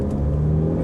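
2016 Mazda accelerating hard on a test track during a 0-60 mph run, a steady, close engine drone with a strong low rumble and no gear change in this short moment.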